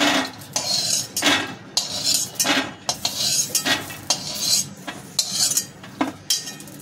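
Roasted peanuts being scooped out of a pan, with repeated metal scraping and clinking of a spoon against cookware in uneven bursts, close by and fairly clear, no talking.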